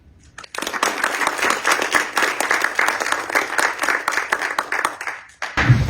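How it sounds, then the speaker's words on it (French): Sustained applause from an audience in a national parliament chamber in Monaco, dense clapping that swells in after a brief quiet start and holds steady for several seconds, ending abruptly. "je vais vous demander de l'applaudir"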